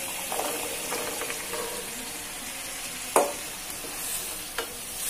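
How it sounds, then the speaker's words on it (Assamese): Boiled chickpeas tipped into a pan and stirred for Assamese chole: soft scraping and stirring with a light sizzle, a sharp clatter near the middle and a smaller knock later, no voices. "এতিয়া মই ইয়াত বইল কৰি থোৱা বুটখিনি দি দিম।"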